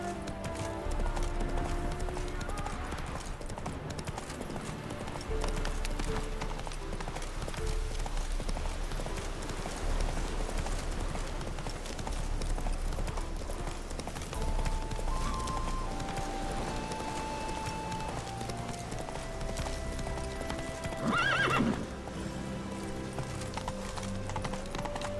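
In The Witcher 3, the horse Roach gallops steadily, hooves clip-clopping in a continuous rhythm beneath background game music, with a short burst of rustling near the end and no talking.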